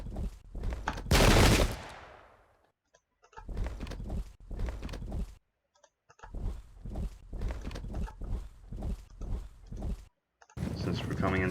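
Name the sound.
gunfire opening up in a war strategy video game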